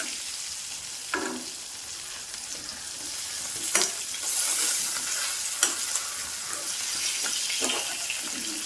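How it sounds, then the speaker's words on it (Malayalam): Dried kurichi fish, desalted and frying in a pan, sizzles steadily while a spatula stirs and flips it, with a few sharp scraping clatters against the pan. "ഇതേ രീതിയിൽ നമ്മൾ ഇങ്ങനെ ഇളക്കി നമുക്ക് തിരിച്ചിട്ട് കൊടുക്കാം"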